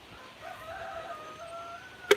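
Chickens on a rural South Dakota farm give a faint, drawn-out call over steady outdoor background noise. A sharper burst follows right at the end.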